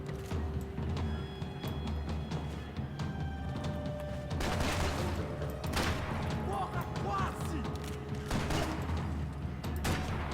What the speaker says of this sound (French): Ça tire un peu trop vite le double pistolet.